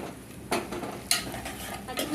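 Onion and green chillies stirred in a pan for a spicy country chicken curry: soft scraping strokes of a spoon at a steady pace under a light sizzle, close by, with no talking.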